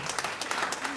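Applause rings out in a church congregation, a dense, steady patter of many hands clapping across the whole second, loud and close with no talk over it.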